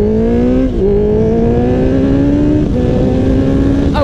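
A Honda CBR650R motorcycle engine pulls steadily under acceleration in a higher gear, its tone climbing smoothly with brief dips at gear shifts, loud and close throughout.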